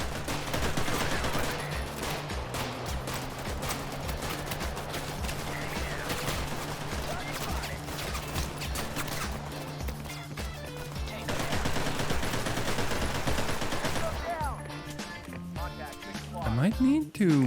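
Dense, continuous video game gunfire with rapid automatic bursts and booms, loud and unrelenting throughout, with a brief shift in texture near the end.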